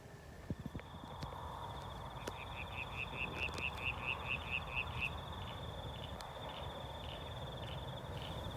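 Frogs calling after dark in a backyard bush setting, including a whistling tree frog, give a steady rhythmic string of short repeated notes over a dense chorus of background calls and night insects, fairly close and continuous.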